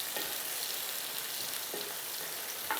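Onion petals sauté in a pan for dragon chicken, a soft continuous sizzle with a few brief scrapes of stirring at intervals.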